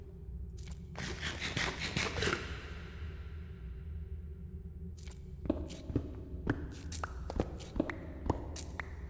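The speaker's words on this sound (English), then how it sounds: "I heard your footsteps. Show yourself." Footsteps crunch and shuffle on stone and gravel in the Minecraft video game, a dense run of steps early on, then a pause and a string of separate sharper steps, fairly close.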